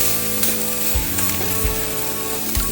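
Steak sears in a very hot pan with a loud, continuous sizzle and hiss, broken by a few soft knocks as the meat is shifted, close and without any voices.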